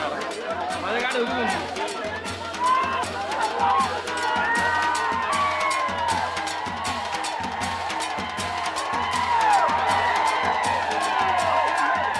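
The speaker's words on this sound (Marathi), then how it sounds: "शशिकांत शिंदे समर्थकांचा आज जोरदार जल्लोष साताऱ्यात सुरू आहे" A large crowd of supporters celebrating an election result in Satara, with continuous loud cheering, whoops and shouting, and rhythmic drumming running underneath throughout.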